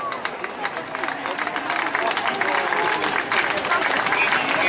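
A crowd at the 2017 European BMX Championships semifinals applauds a rider who had crashed earlier, with scattered clapping and cheering building steadily beneath an announcer's voice.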